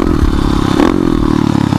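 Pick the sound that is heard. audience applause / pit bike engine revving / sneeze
pit bike engine revving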